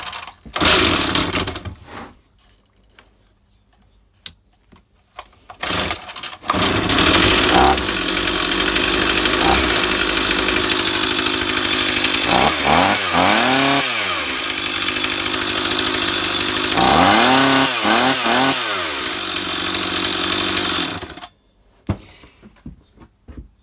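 A Stihl MS260 chainsaw with a newly replaced carburettor starts after a few primer pumps, then runs loud and close, holding a steady idle broken by several rising and falling revs before shutting off near the end.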